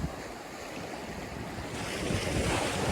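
Ocean waves wash against a rocky shore at Kalbarri, Western Australia, a steady broadband roar that swells louder toward the end, with wind buffeting the microphone and no voices.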